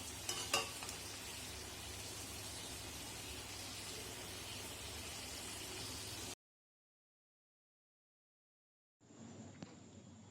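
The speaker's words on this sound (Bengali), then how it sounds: "এবার পটল আর আলু দিয়ে মশলাটা বেশ ভালোভাবে কষিয়ে নেব" Pointed gourd and potato being sautéed in spice paste sizzle steadily with stirring for about six seconds, then the sound cuts out to silence before a brief return of frying noise.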